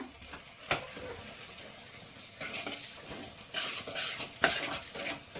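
A spoon stirs a mix of chilli, coriander and turmeric powder in hot oil for Andhra-style stuffed eggplant curry, with soft scraping and several louder scrapes against the pan over a faint sizzle.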